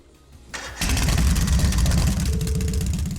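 A motorcycle engine starting in the Trails of Cold Steel video game, a short cranking sound that catches and settles into a loud, steady, throbbing idle.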